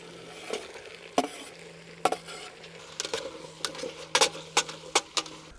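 Browned chuck beef sizzles and crackles in a pot, a steady fry broken by a string of sharp scraping stirs and metal clanks that come quicker toward the end, close and fairly quiet.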